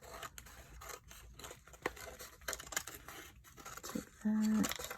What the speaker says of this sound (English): This is me going to trim the excess.